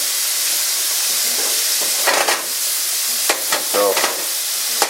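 Chicken sizzling in a pan for home-cooked chicken fried rice: a loud, steady frying hiss with occasional stirring scrapes and spatters, close by and without speech.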